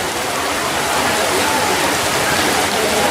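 Heavy rain pours steadily at an outdoor patron saint festival in Yurimaguas, a dense continuous hiss with no breaks, loud and enveloping.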